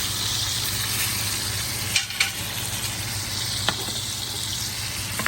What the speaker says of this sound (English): Keep that basting process up for the next just couple minutes.